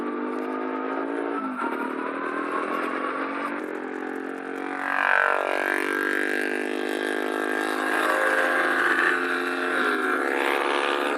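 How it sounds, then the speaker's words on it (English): Several motorbikes ride behind on a road, their engines droning steadily with a rising, swelling pass midway, heard from moderate distance over constant road and wind noise. "There's definitely motorbike or motorbikes behind me."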